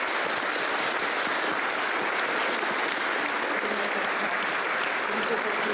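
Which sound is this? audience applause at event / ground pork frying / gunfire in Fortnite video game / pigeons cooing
audience applause at event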